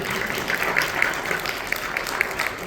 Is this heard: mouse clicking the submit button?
no